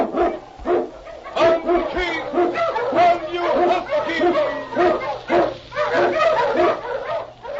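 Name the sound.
Eskimo sled dog barking in radio drama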